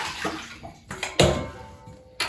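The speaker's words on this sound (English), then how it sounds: "So I'm just going to pour that over to my sink." Water poured from a toilet basin into a sink during a Fluidmaster toilet kit install, a couple of brief splashing gushes separated by short pauses, close by.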